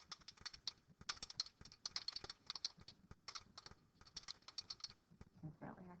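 Rapid, irregular clatter of typing on a computer keyboard, bursts of close keystrokes with brief pauses, fairly quiet, with a faint voice starting right at the end.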